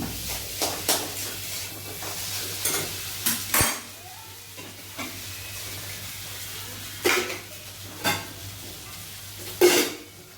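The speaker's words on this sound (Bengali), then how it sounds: "আলু হয়ে গেছে, ভালো করে মেখে নেবো আমি।" Boiled potatoes worked by hand in a metal bowl, giving soft squelching and rubbing sounds broken by sharp clinks and knocks against the bowl at irregular intervals, close and moderately loud.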